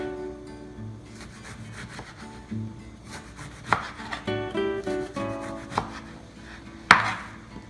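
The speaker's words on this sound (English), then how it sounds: "And then we make little cubes with the eggplant." A knife chops eggplant into small cubes on a board, a series of crisp irregular taps and scraping cuts, close and clear, with no talking.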